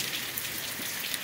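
Steady, quiet November rain patters in a backyard, a soft continuous hiss with scattered drops and no voices.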